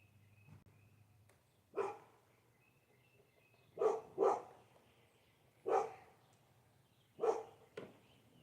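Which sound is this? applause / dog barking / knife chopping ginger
dog barking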